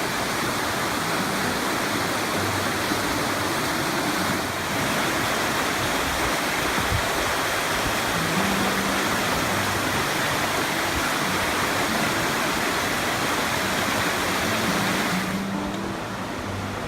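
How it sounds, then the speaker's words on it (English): Dan River, the largest tributary of the Jordan, rushes steadily in a nature preserve, a continuous loud broadband roar of flowing water with no voices throughout. "This is the largest of the three, and it flows with water all year around."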